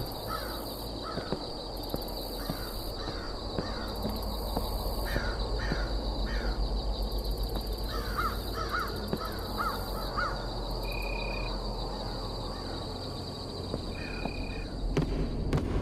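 Crows caw repeatedly in the Bhangarh horror video game, a series of harsh calls in irregular bursts over a constant eerie ambient drone, with a couple of brief tonal beeps.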